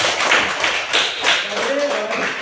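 Students in a classroom clap together, loud and close, a cluster of quick rhythmic hand claps in bursts with children's voices mixed in.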